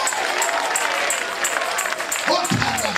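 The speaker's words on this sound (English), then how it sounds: "Clap your hands if you believe it tonight" Hands clap together across a church convention congregation, a dense, steady patter of applause under a preacher's loud voice that carries on throughout.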